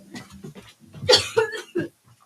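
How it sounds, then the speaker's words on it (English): Several hard, close coughs in quick succession, loud and forceful, from someone with a piece of granola caught in the throat, with quiet gaps between the bursts. "I'm gonna cough really fucking hard."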